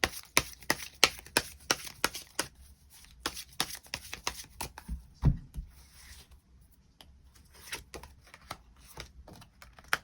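Tarot cards being shuffled and drawn, with sharp irregular flicks and riffling clicks, close and fairly crisp over ten seconds, a few heavier taps mixed in.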